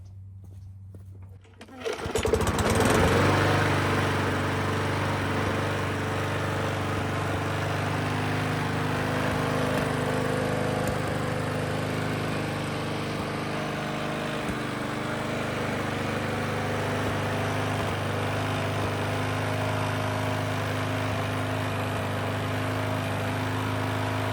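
A small Briggs & Stratton engine on a Bolens mower starts up and then runs steadily at idle, a loud, continuous droning hum with a low rumble and no talking.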